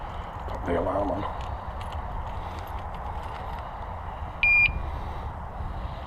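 An ebike alarm being armed gives a short, sharp electronic beep about two-thirds of the way through, over outdoor background noise, with brief faint talk earlier.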